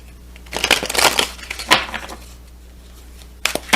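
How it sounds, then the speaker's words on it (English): Tarot cards from a Rumi deck are shuffled close by in crisp, riffling bursts, a flurry, a pause, then another quick rustle, with no talking. "I know you're asking why I have to shuffle each one"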